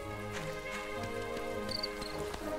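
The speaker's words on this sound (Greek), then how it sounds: "Πω ρε φίλε, βροχή." Rain falls in the video game My Time at Portia, a steady patter of drops mixed with layered game music and scattered soft taps over about three seconds.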